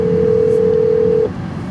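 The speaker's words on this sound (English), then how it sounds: "I actually need to call Alex back because I was on the phone with her in the line" A phone call being placed: a steady, loud single-pitch dial or ringback tone holds for over a second, then cuts off, leaving quiet room background.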